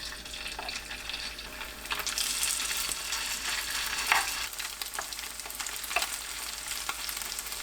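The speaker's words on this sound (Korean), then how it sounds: "식용유 두른팬이 예열되면 중약불로 낮추고 반죽 올립니다" Siraegi pancake batter with chili, green onion, egg and potato starch fries in an oiled pan over medium-low heat, giving a steady close sizzle with occasional louder pops and scraping stirs.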